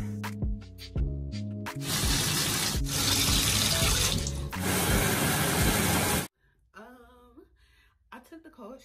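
Cold shower water pouring steadily and loudly for several seconds, a dense continuous spray that cuts off abruptly, followed by quieter faint sounds and a brief voice.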